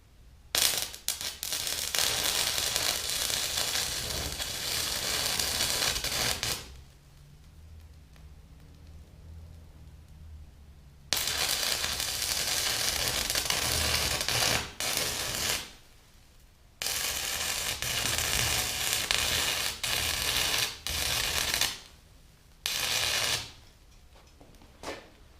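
A stick welder cuts metal with a 1/8 inch 6011 rod in long bursts of harsh, loud crackling and sputtering arc noise, broken by quiet pauses between runs.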